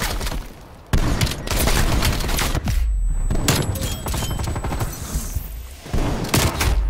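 Loud, close automatic gunfire from Call of Duty Black Ops Cold War, rapid bursts and booming shots packed together almost without pause, with a short lull near the middle before the firing resumes.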